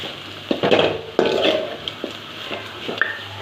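A spoon scrapes and knocks against a pan while coconut rice is stirred, with irregular clinks and soft shuffling strokes, close and alone.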